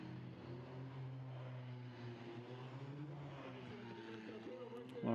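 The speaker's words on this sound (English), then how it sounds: "what we're really listening to is the cars in the background, which is a lovely sound too." Race cars circulating at the Motorland circuit during a 2023 race weekend produce a steady, distant engine drone that holds through the whole stretch, swelling slightly at the very end.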